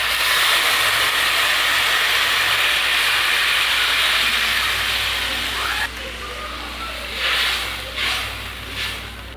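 Water poured into a pan of sautéed spices for a rohu fish curry, giving a loud broad steaming hiss that runs steadily for several seconds, then drops and sputters in a few softer bursts.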